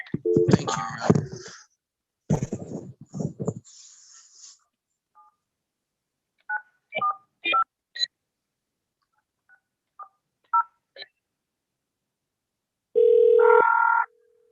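A phone number is keyed in on a telephone, giving a series of separate DTMF beeps spaced irregularly, followed by a steady tone, preceded by brief muffled sounds.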